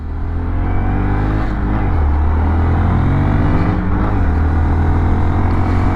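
A 2025 Honda Monkey motorcycle, a small, light bike, accelerates with a loud, close engine drone whose pitch climbs through gear changes while riding, steady and continuous without voices.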